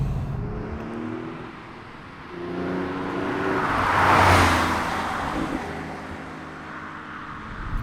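Porsche 911 engine droning steadily inside the cabin while driving, broadband road and engine noise swelling to a louder rush midway before easing back, with no talk over it.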